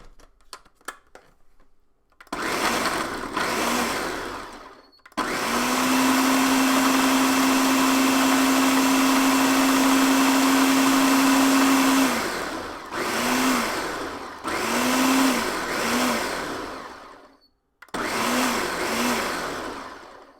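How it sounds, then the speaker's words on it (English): Blender mixing an eggnog milkshake in several loud bursts, a long steady whirring run in the middle, then shorter pulses separated by brief silences. "Never put your hand into a blender, even when it's turned off."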